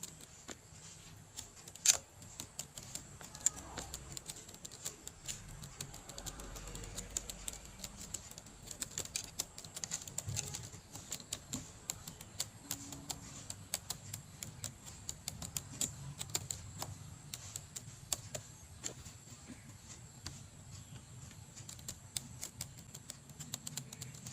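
Computer keyboard typing during data entry, a long run of quiet, irregular clicking keystrokes heard close and faint with no talking.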